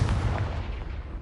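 A Confringo fire spell goes off in the Hogwarts Legacy video game as a deep, rumbling blast that rolls on steadily for a moment and then eases slightly.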